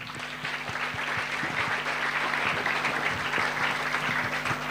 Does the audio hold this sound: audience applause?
yes